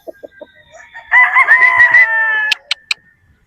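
A Gilmore Hatch gamecock gives a single loud, close crow lasting about a second and a half. A few short clucks come before it and a couple of sharp calls follow.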